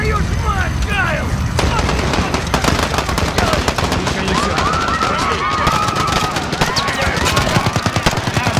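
Rapid bursts of gunfire in the video game Call of Duty: Modern Warfare (2019) crackle continuously, with dense machine-gun rattles and chaotic battle noise throughout.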